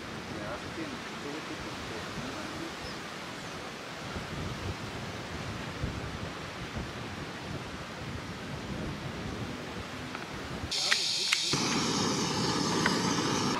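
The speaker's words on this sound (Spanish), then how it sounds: "No había tenido la experiencia de esta clase de viento" Strong wind buffets the microphone at the Mirador Claro de Luna mountain lookout, a steady, loud, roaring rush that shifts into a brighter, harsher gusting near the end.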